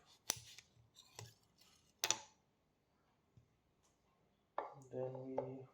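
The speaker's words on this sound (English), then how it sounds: "Now I cut the orange half." A knife cuts an orange in half while someone makes fresh juice at home, giving a few sharp, close cutting taps and crunches separated by quiet gaps, with someone talking nearby.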